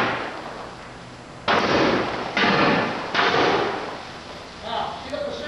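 A shorted submarine battery bank arcs at thousands of amps in three loud, crackling roaring bursts, each lasting most of a second, with fainter sputtering after and a voice speaking in the background.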